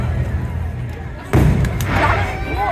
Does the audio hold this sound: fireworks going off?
yes